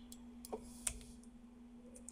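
Computer mouse clicks while editing a product in a web app: a few sharp, faint, isolated clicks spaced irregularly over a low steady hum, with no talk.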